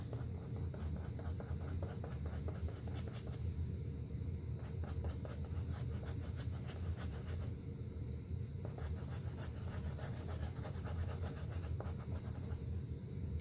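Paintbrush scrubbing acrylic paint onto canvas for a close-up owl painting, a steady, continuous soft rubbing and scratching texture at close range with no pauses.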